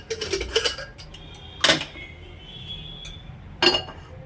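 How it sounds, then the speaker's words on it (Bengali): Metal pressure cooker handled on a gas stove, with a few sharp clanks and clinks of the pot and lid spaced apart, close and fairly loud against a quiet background. "গ্যাস অন করে দিচ্ছি। এটা প্রেসার কুকার নিলাম।"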